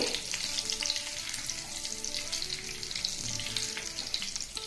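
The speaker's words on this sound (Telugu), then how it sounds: "కొంచెం కరివేపాకు దోరగా వేగనిద్దాం" Curry leaves crackle and sizzle in hot oil for a tempering on a low flame, a steady dense frying hiss with scattered pops, close and continuous, no talking.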